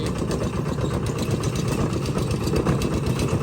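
A Kubota RT tractor engine idles steadily nearby, a low, rough rumble with a constant chugging throb and no talking.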